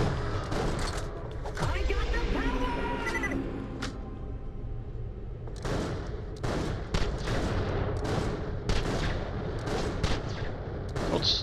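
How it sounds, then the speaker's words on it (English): Enemies open fire in Borderlands The Pre-Sequel, bursts of sharp gunshots and rapid volleys crackling repeatedly at close to mid range, mixed with game effects while someone talks over part of it. "You quit shooting me."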